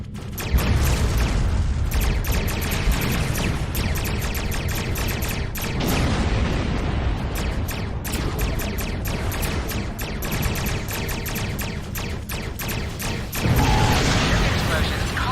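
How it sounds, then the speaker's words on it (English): Ships blowing up in the Star Trek Online space combat game: a dense, continuous run of sharp booming bursts and crackling blasts, loud and close, with a voice speaking over parts of it. "Explosions cause damage."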